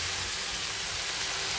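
Washed red amaranth leaves dropped into a pan of frying taro, giving a steady, loud hissing sizzle that holds evenly throughout without pause.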